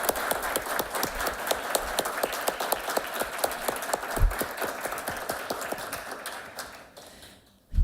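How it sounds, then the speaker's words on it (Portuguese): At a Bank Workers' Day award ceremony, an audience applauds an honoured bank worker with steady, fairly even clapping of many hands that carries on for several seconds before thinning out and dropping away. "eu queria agora, nesse momento, pedir os aplausos para o seu Rui e referendá-lo nessa noite"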